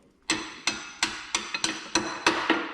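Steel hammer taps a chain coupler onto a shaft shoulder on an Oliver tractor, eight sharp metallic strikes in a steady rhythm, close and clear.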